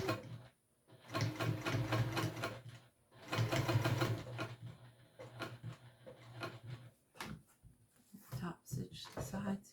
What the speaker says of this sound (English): we'll top stitch across here